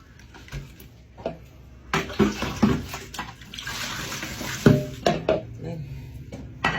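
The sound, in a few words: washing dishes with soap and water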